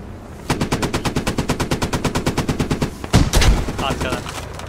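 Automatic gunfire in the Squad video game: a rapid, evenly spaced burst of around twenty loud shots, followed by a heavier blast and a brief rumbling tail.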